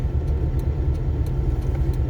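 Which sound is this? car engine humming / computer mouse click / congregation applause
car engine humming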